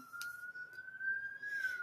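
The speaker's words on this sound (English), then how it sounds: "there is a siren passing by, guys, so let's just wait." A faint, steady siren tone wails in the distance, holding nearly one pitch with slight rises, under light background noise.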